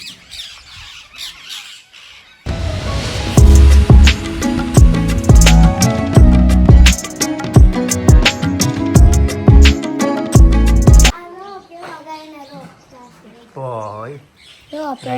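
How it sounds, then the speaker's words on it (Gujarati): Morning birds chatter and squawk in a busy, loud chorus of overlapping calls during rain, then fade as close speech takes over near the end. "અત્યારે જો પક્ષીનો કલબલ અવાજ સવારમાં મસ્ત મજાનો આવે છે"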